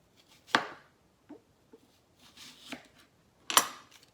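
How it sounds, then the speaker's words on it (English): A knife cuts an onion into wedges on a cutting board, with a few separate crisp chops: a strong one early, softer taps in between and another firm chop near the end, close and without talk. "I'm gonna cut it into wedges"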